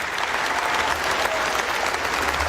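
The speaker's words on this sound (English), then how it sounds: "Big round of applause for John Felton" Audience at a West high school graduation ceremony applauds the county health officer, John Felton, with steady, dense clapping from a crowd that holds loud and even throughout.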